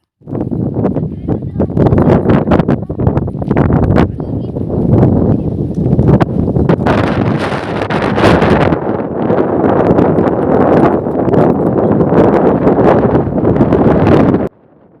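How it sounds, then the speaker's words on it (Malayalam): Strong wind roars continuously across the microphone on a rock hilltop, buffeting and gusting loudly for the whole stretch before cutting off abruptly. "ഇവിടുത്തെ കാറ്റൊന്ന് കേട്ട് നോക്കൂ,"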